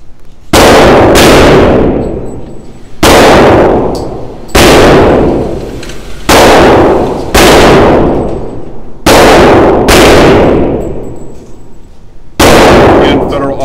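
Taurus TX22 pistol firing Federal Auto Match rounds, a series of loud, sharp gunshots spaced about one to two seconds apart, each ending in a short ringing decay.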